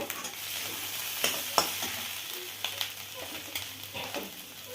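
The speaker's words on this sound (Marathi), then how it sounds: "तर पाच मिनटं ही जी भाजी आहे ती आपण भाजतोय" Bharanga leafy greens roast in a pan on low heat with a constant soft sizzle, broken by a few scraping stirs and light clicks of a spatula, close by.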